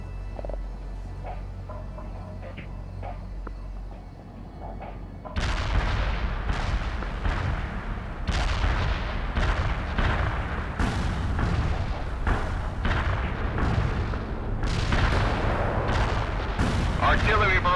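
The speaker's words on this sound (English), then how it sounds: "Artillery barrage inbound." Artillery barrage explosions in the World in Conflict game: after a quiet hum, a rapid series of heavy booms and blasts erupts and keeps pounding, loud and rumbling, with irregular impacts until the end.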